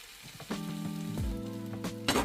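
Pasta and pasta water going into a hot pan for a creamy white sauce pasta, a soft sizzle with some clinks and scrapes, plus a tonal hum, close and moderately quiet, no voices.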